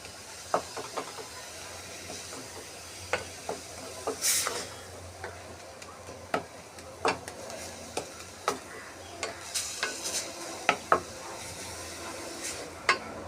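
A spoon stirs a coconut barfi mixture with milk and cream in a pan, making quiet, irregular scraping and tapping clicks against the metal over a soft background hiss.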